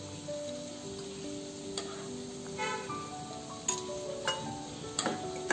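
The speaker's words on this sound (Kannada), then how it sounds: "ಒಂದೆರಡು ನಿಮಿಷ ಇದನ್ನು ಹಾಗೆ ಕುದಿಯಲು ಇಡೋಣ." Stuffed aloo masala curry bubbles quietly in a pan with a soft, steady sizzle, broken by a few sharp clinks and taps of a utensil against the pan.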